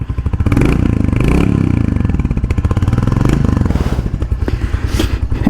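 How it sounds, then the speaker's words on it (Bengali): A Royal Enfield Hunter 350 motorcycle engine idles loudly and steadily with rapid, even firing pulses and some mechanical clatter throughout. "স্টার্ট হয়ে গেছে বাইক, আর সাউন্ডটা হয়তো বা ক্লিয়ারলি আসতেছে না"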